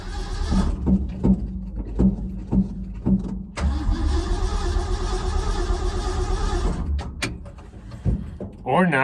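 A truck engine cranks repeatedly without starting because it has no gasoline, the starter turning over in a steady rhythm, then going into a longer continuous whir before stopping. A voice talks over the first part.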